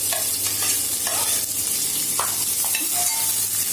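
Sliced onion frying in ghee for Kerala ghee rice, stirred steadily: a continuous close sizzle with scraping stirs and light clinks throughout, no voices.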